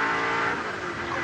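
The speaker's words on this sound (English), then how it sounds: "listen to that deep-throated roar of the engine. The big V8" A deep, loud V8 race car engine roar at the 1984 Bathurst race start, steady and throaty with a slight dip in pitch midway, heard close and continuous.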